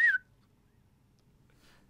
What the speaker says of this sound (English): He whistles.